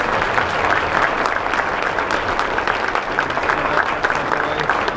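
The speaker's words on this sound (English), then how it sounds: "Let's give them one more round of applause." Dense, steady applause from an audience after a middle school concert, a loud continuous wash of clapping filling the room without pause.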